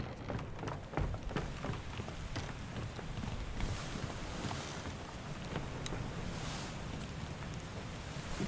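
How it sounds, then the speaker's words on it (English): Rain falls steadily in the ship setting of the video game Return of the Obra Dinn, a soft continuous patter with occasional sharper drops and creaks, faint and even throughout. "It's raining now."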